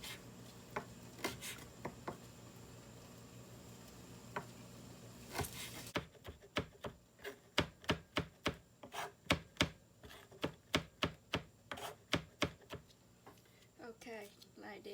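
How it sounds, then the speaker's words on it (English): A knife chops garlic and hot pepper into small pieces on a cutting board, with a steady run of sharp, close taps coming faster after a few scattered early cuts. "the garlic and the hot pepper, you cut it in small pieces"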